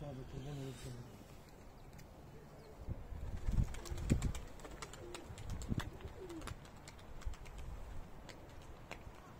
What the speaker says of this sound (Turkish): Evet, havada bir tane kuş var.